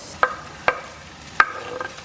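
Sliced hot dog fries with garlic and onion for Filipino spaghetti sauce, with three sharp scrapes of a utensil against the pan over a faint sizzle.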